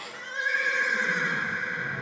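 A horse whinnies in a long, wavering, high-pitched call, clear and fairly close, with no voices over it.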